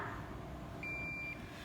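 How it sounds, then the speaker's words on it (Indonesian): A single clear electronic beep sounds from an automatic hand sanitizer dispenser with a temperature sensor, one short steady tone over quiet background hiss. "bunyi bip sekali pertanda bahwa seseorang dalam keadaan sehat."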